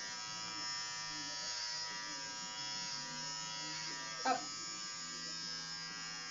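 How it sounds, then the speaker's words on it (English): A cheap electric shaver buzzes steadily while shaving a head, its hum continuous and close, with people talking over it. "I think it's a cheap shaver"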